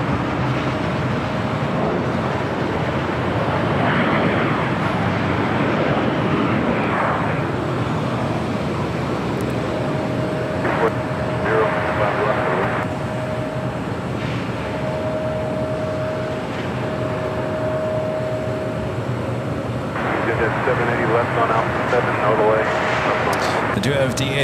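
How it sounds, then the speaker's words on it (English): British Airways airliner taking off at LAX, a broad steady jet roar holding loud throughout with a faint thin whine, while someone talks over it at intervals. "Speedbird, it's going to be our next takeoff."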